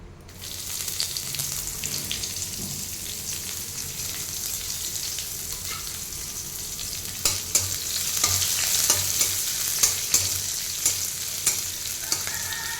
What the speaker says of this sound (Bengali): এরপর শুকনো লঙ্কা 2টো দিয়ে দেবো। পেঁয়াজটা দিয়ে দেবো তেলের মধ্যে।